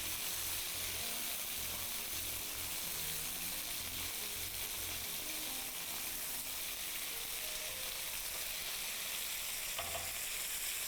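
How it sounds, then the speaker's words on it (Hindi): Chicken with garlic frying in a pan, a dense continuous hiss and crackle of hot oil, steady and close throughout with faint stirring underneath and no talk. "चिकन को हम गला लेंगे जी, 2 से 3 मिनट हम इसको पका लेंगे"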